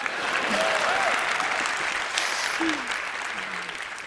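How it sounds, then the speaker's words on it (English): Steady crowd applause fills the whole stretch, with a few faint voices and whistle-like calls rising above the dense clapping. "if you guys could just clap your hands a little bit more"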